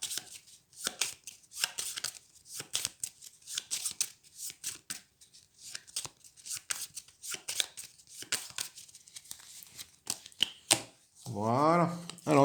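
Playing cards from the board game Dinoblivion being drawn and handled in quick crisp slaps and flicks during a solo game, close by, interleaved with someone talking.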